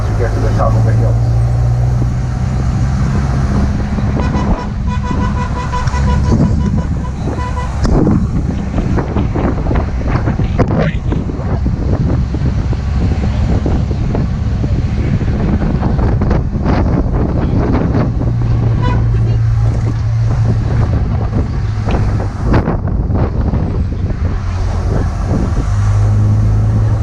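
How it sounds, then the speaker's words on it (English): Tour bus engine labouring up a hill on Tortola, a loud continuous low roar mixed with heavy wind buffeting on the microphone, steady for the whole stretch with occasional voices underneath. "As we're going up the hill, the engine makes a lot of noise"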